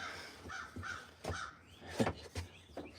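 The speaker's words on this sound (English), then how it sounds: "Sounds like the crows are all out there." Several crows caw repeatedly at middle distance outside a workshop, harsh calls overlapping in an irregular rhythm with no talking.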